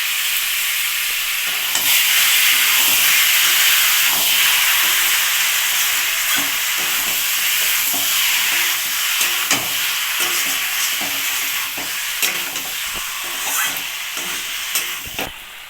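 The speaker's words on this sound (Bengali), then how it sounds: "কুমড়াটা আমি 2 মিনিট কষিয়ে নেব মশলার সঙ্গে" Boiled ash gourd sautéing with spices and tomato in a hot pan gives a steady broadband sizzle throughout, with scattered spatula scrapes and stirring clicks, louder toward the end; no one talks.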